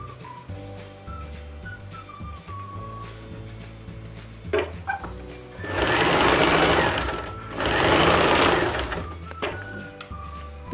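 Sewing machine stitching a petticoat drawstring (naara): quiet handling and clicks at first, then two loud, close, sustained bursts of rapid mechanical stitching separated by a short pause, with no talking.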